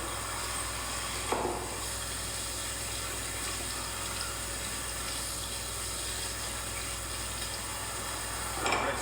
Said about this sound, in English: Making sure all soap residue is rinsed off.